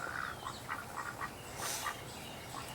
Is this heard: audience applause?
no